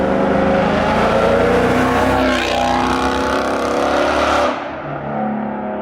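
A 2016 Ford Mustang 5.0 with a Corsa exhaust roars past at close range, a loud, screaming exhaust note that swells, shifts pitch as it passes, then drops away into quieter road noise.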